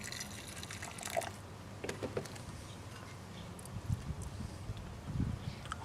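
Hot distilled water poured to rinse gold mud at the bottom of a glass beaker, with soft sloshing and gurgling plus a few clinks of glass, faint and close with no talking.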